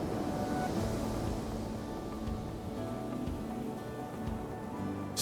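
A speedboat runs offshore from Grand Bay, Mauritius. Its engine makes a constant rumbling drone mixed with rushing water and wave wash, steady and moderately loud throughout.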